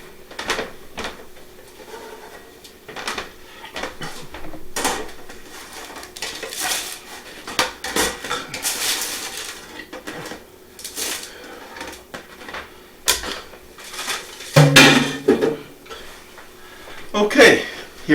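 Freshly baked blueberry bagels, just out of the oven, are set down on a cooling rack, giving a few soft knocks and metallic clinks near the end while someone talks throughout.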